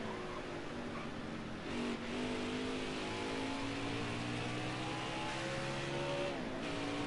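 Race car engine in a racing video game, revving and climbing through gears with rising whine, brief dips at shifts, fairly quiet and steady with no speech.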